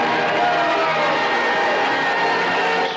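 A large outdoor crowd cheers and roars steadily at the finish of the 1990 Nice Triathlon. The sound is loud and sustained, with voices blending into a dense wash.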